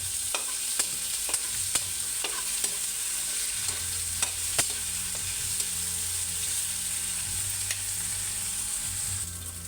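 Hotdog slices with onion frying in a pan for menudo give a steady hiss broken by faint clicks as they are stirred, close and continuous, with no talking.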